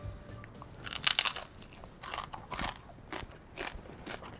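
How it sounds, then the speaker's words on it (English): Close, loud crunching bites into crispy fried pork knuckle skin (crispy pata), several sharp crackly bursts followed by quieter chewing and crackling, with no talking. "Now that's the sound you want to hear when you have fried pork."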